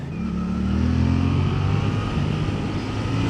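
A Suzuki GSX-8TT motorcycle engine accelerates with a loud, steady roar, its pitch climbing smoothly through the gear, heard close and alone without talk.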